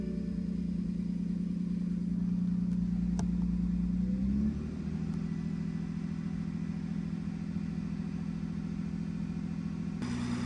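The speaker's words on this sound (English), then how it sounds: "Maybe rev it a little bit." A BMW 340i idling and lightly revved, a steady low engine drone that rises slightly, then settles back around four seconds in and holds an even hum, with a sharp click near the end.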